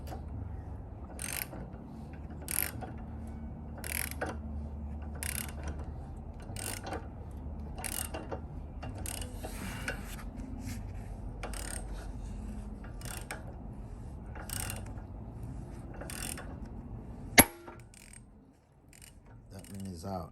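Bushing being pressed out of a Honda crossmember, heard as a slow series of regular ratcheting clicks with grinding and rubbing, ending in one sharp loud crack as it lets go.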